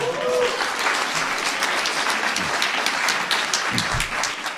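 A talk-show studio audience claps loudly and continuously as a guest, a political party leader, comes on stage. Dense applause fills the whole stretch, with a voice briefly heard under it.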